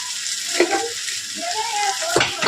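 Sliced teasel gourd frying with turmeric in a pan, a steady close sizzle with a few stirring scrapes and clatters over it.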